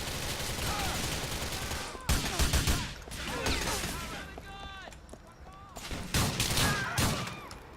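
Video game gunfire in Grand Theft Auto IV crackles in rapid bursts and sharp repeated shots, mixed with crashes and game sounds while someone talks over the action.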